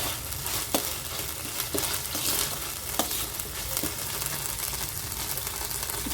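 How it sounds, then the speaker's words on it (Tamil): Ginger garlic paste sautéing in oil for a mutton curry, a close, steady crackling sizzle with sharp ladle taps and scrapes against the pan at irregular intervals. "ஒரு நிமிஷம் மட்டும் நல்லா வதக்கி விடுங்க"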